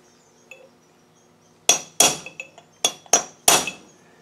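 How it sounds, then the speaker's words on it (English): An old chisel is struck hard with a hammer to drive out Land Rover wheel bearings at a workbench, giving about six sharp metallic blows in irregular succession after a brief quiet, each ringing off quickly. "To get the bearings out, an old chisel."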